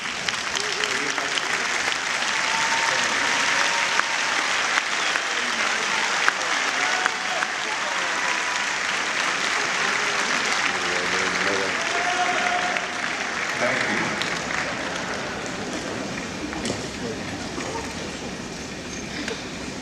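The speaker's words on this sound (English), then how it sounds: "give their parents and loved ones a standing ovation and a round of applause" Sustained loud applause from a large crowd at a high school graduation ceremony, a dense continuous roar of clapping with scattered cheers that holds steady and then slowly tapers off.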